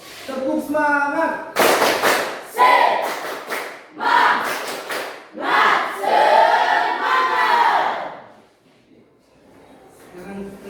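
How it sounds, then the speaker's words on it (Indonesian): A school class performs a rhythmic spirit clap, with sharp group claps in set patterns mixed with loud shouted chants from the students, then a brief pause before the voices resume. "Tepuk semangat."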